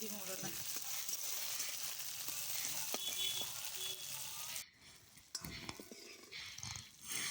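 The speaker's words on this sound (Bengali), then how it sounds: "সব সবজিগুলো খুব ভালোভাবে ভেজে নেব" Steady sizzling of mixed vegetables frying in a hot pan, with occasional stirring clinks, then a brief drop and softer sizzling with quiet handling noises.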